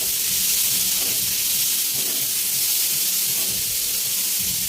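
Chopped onions fry in hot oil in a pan for an Indo-Chinese crispy chicken dish, giving a loud, close, continuous sizzle and hiss with faint stirring scrapes underneath and no voices.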